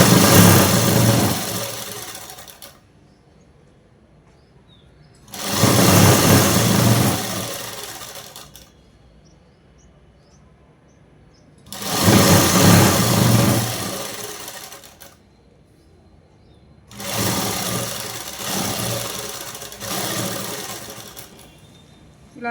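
Sewing machine stitching lining onto a dress, four separate bursts of fast, steady whirring mechanical stitching lasting a few seconds each, with quiet pauses between them and no talk.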